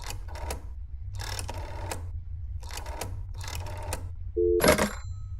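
Telephone dialing tones in the video game That's Not My Neighbor, a series of short repeated tonal bursts at steady intervals, followed by a brief louder electronic beep near the end, with no talk.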